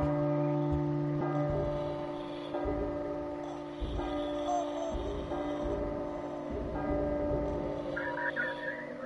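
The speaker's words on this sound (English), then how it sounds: "Okay, so the bells tolling midnight." Bells toll midnight in a video game, with sustained ringing tones layered over a steady ticking and low ambient hum, strokes repeating at a slow, even pace.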